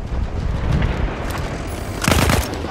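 Gunfire from a three-round burst weapon in Battlefield 1, an online Rush match on Xbox One, with a loud cluster of close shots near the end over steady battlefield ambience.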